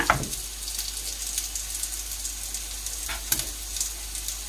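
Shrimp fried rice sizzling in a hot pan, a steady, close hiss of frying with a few brief stirring scrapes, loud and continuous without talk.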